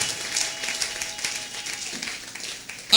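A church congregation gives brief, light applause for Jesus, scattered clapping fading under a faint hiss before a sudden louder burst at the end.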